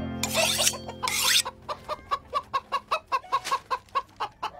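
Chickens cluck in a fast, steady run of short calls, close and fairly loud, after a brief burst of rustling at the start.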